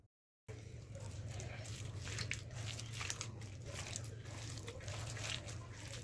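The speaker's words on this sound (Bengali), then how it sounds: "সুন্দর করে একদম হাতে মেখে নিলাম" Soft, wet squishing and crinkly churning as a hand works sliced onion, chili, spices and egg into a bora fritter batter, continuous, close and faint.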